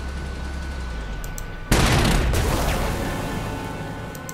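An artillery bombardment in the Panzer Corps 2 strategy game, heard as a sudden loud boom that breaks a quieter background and then rumbles and rolls on, fading slowly over several seconds.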